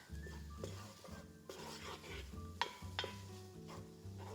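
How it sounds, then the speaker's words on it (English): Minced garlic and onion cooking in a pan, with spoon scraping and stirring against the metal in steady strokes over a low background hum, close and fairly quiet, no talking. "we'll just cook the garlic with the onion for about 30 to 60 seconds."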